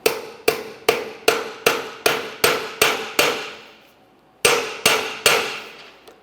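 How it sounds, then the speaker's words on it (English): A hammer taps the steering column plunger shaft of a 2001-2005 Ford Explorer Sport Trac into place: about a dozen sharp, evenly spaced metallic strikes, loud and close, with a brief pause before the last few blows. "go ahead and give it a couple loving bonks with a hammer to drive it in"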